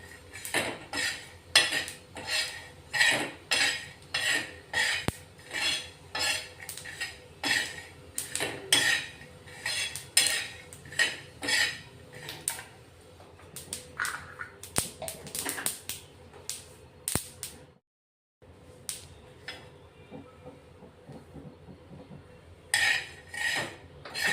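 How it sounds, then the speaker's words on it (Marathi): Sesame seeds roasting in a pan, stirred with a spatula in fast repeated scraping strokes that give a steady rattling rhythm, broken by a brief pause before the stirring resumes; no talking. "तीळ पटकन भाजली जाते, तीळला वेळ नाही लागत।"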